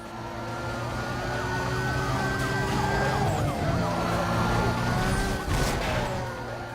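Police sirens wailing in Need for Speed: Most Wanted (2005) during a pursuit, overlapping sweeping tones over a car engine drone, loud and sustained with a sharp crash-like burst near the end.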